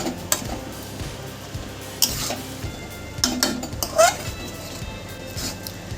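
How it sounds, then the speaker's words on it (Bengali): Sugar stirred into a mixed vegetable labra in a pan, with close spoon scrapes and metallic clinks against the pan over a faint sizzle. "এবার চিনিটা একটু ওপর নিচে নাড়াচাড়া করে দিচ্ছি।"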